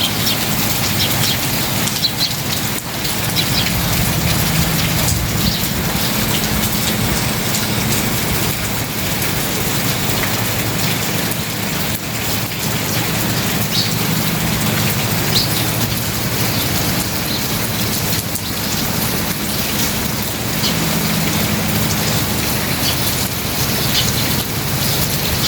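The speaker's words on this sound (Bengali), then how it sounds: "দেখেন কত পরিমাণে বৃষ্টি" Heavy early-morning rain falls steadily after a night of storms, a constant, loud hiss of rain on surfaces that carries on without a break and with no talking.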